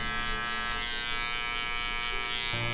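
Electric hair clippers hum steadily at close range while cutting a high skin fade on blonde hair, a continuous buzzing drone with a slight shift in tone near the end.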